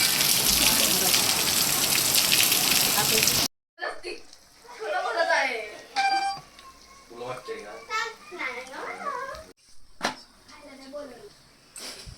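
Heavy rain pours down in a dense, steady hiss for the first few seconds, then cuts off as children and adults talk nearby.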